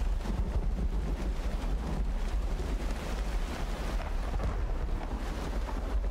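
A thunderstorm in the video game Uru: Ages Beyond Myst brings a steady roar of wind and rain with low rumbling thunder rolling underneath throughout, no voices.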